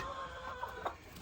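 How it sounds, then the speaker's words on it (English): Distant guinea fowl calls, faint and scratchy, sound over a steady background hiss, with a couple of brief harsher squawks near the end. "that noise you're hearing down there is those guineas"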